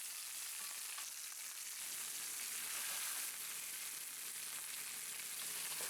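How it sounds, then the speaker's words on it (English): Turkey giblets sear in a hot cast iron pan, a steady, dense sizzle and crackle that runs unbroken throughout, with no voices. "We sear the giblets in a cast iron pan in order to brown them."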